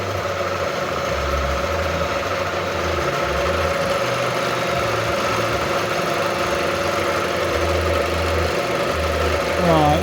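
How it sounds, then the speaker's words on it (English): A machine tool on auto feed cuts a motorcycle front fender mount for a Harley Dyna chopper, running as a steady mechanical hum with a rhythmic low chug, close and continuous, and a brief rise in pitch near the end. "put the auto feed on, give it a quick squirt of WD and send it"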